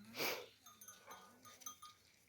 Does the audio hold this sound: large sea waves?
no